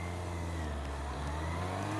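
A motorcycle engine on its first shakedown ride of the season hums steadily and loudly up close, a continuous low drone with a faint rise in revs and rushing wind-like noise throughout.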